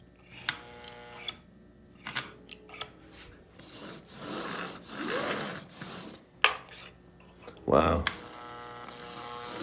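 A Marx 400 double reduction toy train motor, long unused, runs in bursts with a buzzing, rasping whir that rises and fades, broken by sharp clicks and handling knocks, while a nearby voice comments briefly.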